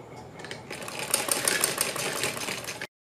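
A sewing machine stitching a neckline runs in a steady, fast mechanical whir with rhythmic needle clatter for under three seconds, then stops abruptly into silence.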